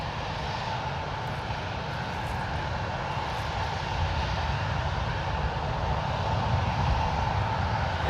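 A jet airliner takes off at San Francisco International Airport, its engines a loud, steady broadband roar that builds slightly, heard alone without talk.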